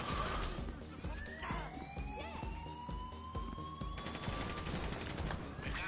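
Rapid gunfire bursts in GTA Online ring out alongside wailing police sirens that sweep up and down, a dense, loud mix of shots and emergency vehicles throughout.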